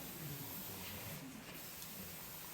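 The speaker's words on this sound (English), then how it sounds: "I have this fun spray stuff." Steady broadband hiss of an aerosol spray can in a dim physics demonstration show, continuous and fairly close, with a brief brighter burst partway through and no talking.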